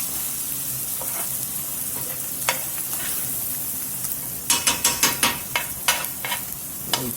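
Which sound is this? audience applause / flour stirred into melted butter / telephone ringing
flour stirred into melted butter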